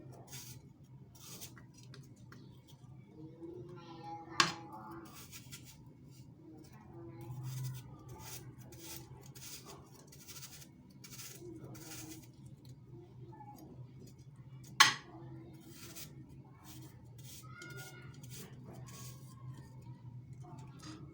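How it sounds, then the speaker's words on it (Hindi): Peeled apples are cut into pieces with a knife, making faint repeated taps on a board and a couple of sharper knocks, heard under intermittent talking. "इस तरीके से हमने सारे एप्पल्स को काट लेना है।"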